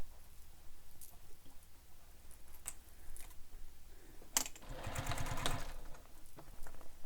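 A domestic sewing machine top stitching across the top of a vinyl handbag, a faint mechanical whir with a louder burst of stitching near the end, alone without talk.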